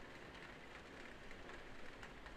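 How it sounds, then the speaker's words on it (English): Steady rain falling outside, a soft, even wash of hiss and patter at low level with no breaks or other sounds on top. "You'll be listening to the rain then."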